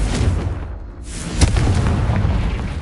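A Confringo blasting spell goes off in Hogwarts Legacy, a booming explosive burst with a rumbling tail over a dense game soundscape, followed by a second sharp impact.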